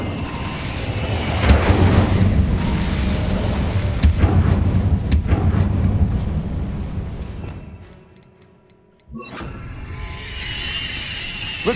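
Incendio fire spell cast in the Hogwarts Legacy video game: a loud rumbling fiery burst sustained for several seconds, fading into near silence before game ambience returns.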